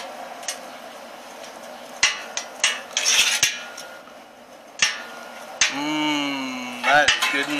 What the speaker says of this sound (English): So I'm going to oil this up. I'm going to spread this out.